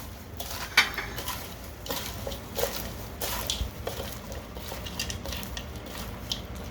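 Arugula salad with roasted beets and balsamic being tossed in a bowl, soft wet rustling with clinks of utensils against the dish, steady and close, one sharper clink near the start, no talking.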